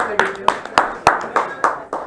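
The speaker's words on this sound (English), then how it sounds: "Start clapping out for Scott Sullivan." At a comedy show, a small group claps in a rhythmic, evenly spaced beat for an arriving comedian. The sharp claps land about three times a second, close and loud, with some voices mixed in.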